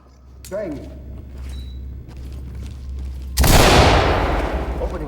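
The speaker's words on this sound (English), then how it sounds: "Gun opening up ahead." Gunfire erupts in the tactical shooter game Ready or Not: a few sharp isolated cracks over a low hum, then a loud sustained burst of fire that fills the end.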